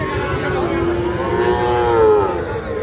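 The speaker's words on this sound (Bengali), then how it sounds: "তবে নেপালি গির জাতের একটা ষাঁড় বাছুর ৪০ পার হলে বিক্রি হবে।" A young Nepali Gir bull calf at a cattle market gives one long, loud, close moo that rises and falls, with market noise underneath.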